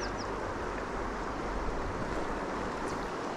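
Fast-flowing river water where fly anglers cast for cutthroat trout, a steady broadband rush that stays loud and constant, with no voices.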